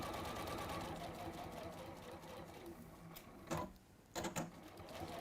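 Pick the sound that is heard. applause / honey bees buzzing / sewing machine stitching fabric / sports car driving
sewing machine stitching fabric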